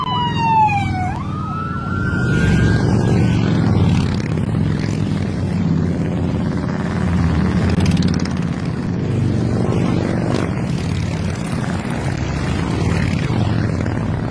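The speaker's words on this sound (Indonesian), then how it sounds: "merekam rombongan moge yang lewat" Big motorbikes in a fast convoy roar past on a road, a loud continuous engine drone filling the whole stretch, with a rising siren-like wail at the start.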